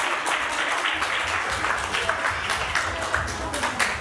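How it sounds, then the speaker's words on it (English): An audience at a temple evening gathering claps steadily in continuous, fairly loud applause, sustained throughout without a break. "Please give them another round of applause."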